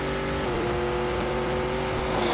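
A car engine in The Grand Tour Game on PS4 holds a loud, continuous, high-revving roar at a race launch, filling the whole moment without a break.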